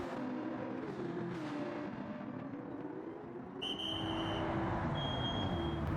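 Race car engine whine from a racing video game as the car drops into the pits, a steady buzzing drone that shifts to higher, sharper tones midway, with no talking.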